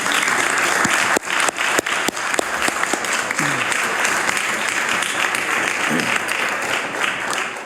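Steady applause from members in a legislative assembly chamber, a broad continuous roar of many hands clapping at even loudness, with a faint voice briefly under it.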